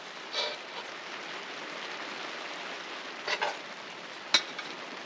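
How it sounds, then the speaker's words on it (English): Rain falls steadily at a campsite during a storm, a dense, even hiss of drops close by, broken by a few louder splats and taps on nearby surfaces, with no talking. "Raining a little harder now."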